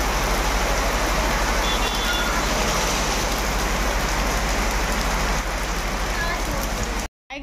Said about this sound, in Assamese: দেখিছেনে বাহিৰত বৰষুণ পৰি আছে